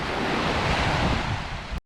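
Ocean waves breaking on a shore, a loud continuous roar of surf with heavy wind buffeting the microphone, cutting off abruptly after under two seconds.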